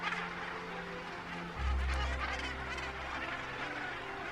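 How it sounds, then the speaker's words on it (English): Large Cape gannet breeding colony on Bird Island in Algoa Bay, a dense, continuous wash of harsh overlapping calls from many birds, with a louder low honking burst partway through. "This is the largest Cape gannet colony in the world."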